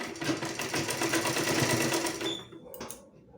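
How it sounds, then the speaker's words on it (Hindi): A sewing machine runs steadily, stitching the folded hem of a 40-inch blouse with four tucks at a half-inch margin, a continuous close whir that slows and stops near the end. "और फिर इसके ऊपर सिलाई चलाएंगे।"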